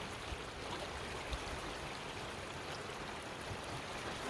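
Creek water flowing at the base of a stream near the Trinity River in California, a soft, steady rushing babble with faint trickles, even and unbroken throughout.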